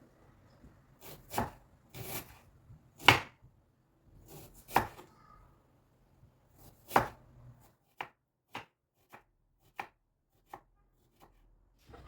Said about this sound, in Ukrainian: Наступним нашим кроком буде цибуля. Ми її маємо тонесенько під кольцями нарізати.